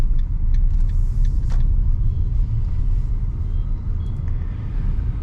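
A motorcycle riding in second gear through city traffic, a loud continuous low engine rumble with surrounding road noise and faint higher clicks, close and steady throughout.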